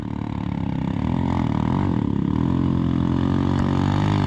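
A trail motorcycle's engine revs loud and close at an off-road trail ride event in Bezerros, Pernambuco, sustained and throaty with rising and falling throttle throughout.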